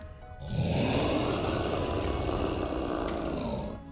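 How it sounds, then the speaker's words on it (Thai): A lion roars loudly and steadily in a cartoon fable, one sustained, growling blast that swells in quickly, holds for several seconds close and full, then eases off at the end, with nothing else heard. "ราชสีก็ตะเพิดมาจิ้งจอกเสียงดัง"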